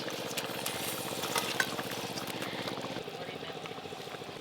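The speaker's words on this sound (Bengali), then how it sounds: "কচুগুলো তো ভাজার সময়ই সেদ্ধ হয়েছিল, আর ঝোলটা ফুটে গেছে" A pot of fish curry with taro bubbles on the stove, giving a continuous close sizzling and simmering texture with soft stirring and no talk.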